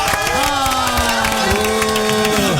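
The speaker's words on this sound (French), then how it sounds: "Est-ce qu'on peut applaudir très fort Memphis" A studio audience at a radio show claps and cheers, a dense continuous roar of applause with sustained tones and voices mixed through it.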